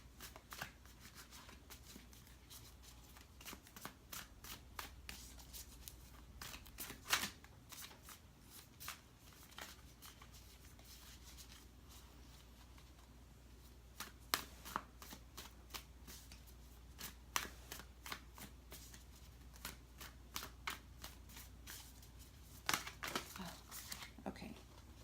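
A deck of tarot cards being shuffled by hand, with repeated papery riffles and flutters coming in bursts and soft crinkly handling in between, close and fairly quiet, with no talking.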